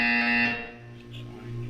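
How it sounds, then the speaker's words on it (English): A Portal 2 game buzzer gives a loud, harsh electronic tone that cuts off after about half a second, leaving a lower hum underneath. "You will hear a buzzer."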